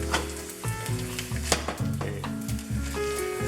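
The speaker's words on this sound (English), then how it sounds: "For a little while you cannot burn garlic, and then you throw in your tomatoes" Garlic, tomatoes, cilantro and rosemary sizzle steadily in a hot frying pan, with crackling spatter and occasional stirring clinks, close and continuous.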